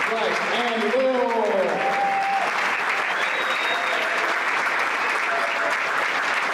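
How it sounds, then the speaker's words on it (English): Sustained crowd applause honoring senior players at a men's college basketball game in a gym, steady and loud throughout, with some voices and cheering mixed in. "let's have one final round of applause for our seniors"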